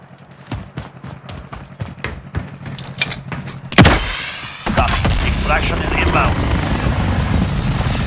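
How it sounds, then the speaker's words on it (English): Attack helicopter in the shooter game Call of Duty: Modern Warfare roaring in loud and close with thudding rotor wash, after a stretch of scattered gunfire and clatter, with a voice talking over parts of it. "Hostile attack chopper carrying cash."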